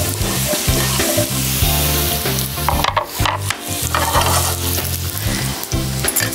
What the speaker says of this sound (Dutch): Deze bak ik in de olie.